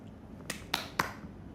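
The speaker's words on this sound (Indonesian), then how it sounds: "Tepuk tangan." Three sharp hand claps spaced evenly apart, fairly faint against a quiet room background, with no talking.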